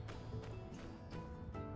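Faint, steady clip-clop of horse hooves trotting along in My Time at Sandrock, a soft rhythmic patter set under a constant musical backdrop.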